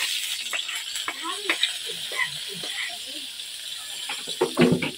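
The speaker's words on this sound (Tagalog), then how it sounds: "Gigisahin na niya yung bawang at saka sibuyas." Garlic and onion sauté in a pan with a soft, continuous sizzle, broken by light clinks and scrapes of stirring and a few faint background voices.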